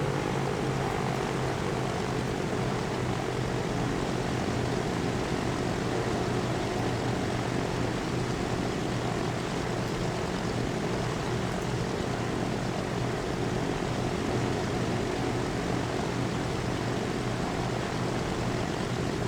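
A C-47 / DC-3 propeller cargo plane in Train Fever gives a steady, loud, continuous engine drone with a low propeller throb that neither rises nor fades, with no voices.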